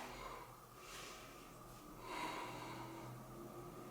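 Steady breathing during a gentle morning yoga twist, with two soft airy inhale-exhale swells, close and quiet, over a faint low hum and no talking.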